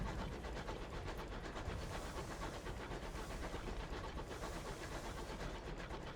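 Airship locomotive train from the video game Sunless Skies running steadily, a faint, continuous hiss and chugging mechanical rumble throughout with no voices.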